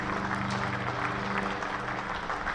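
Spectators at a Hampshire v Warwickshire County Championship cricket match applaud batsman Nick Gubbins as he walks off after scoring 119, a steady ripple of clapping with low ground hum beneath.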